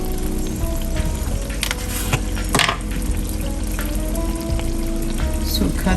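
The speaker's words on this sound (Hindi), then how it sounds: "इस स्टेज पे आके हम देसी घी डाल देंगे" Desi ghee poured onto cooked maash dal, producing a steady, loud sizzle and bubbling with a few clinks of a utensil against the pot.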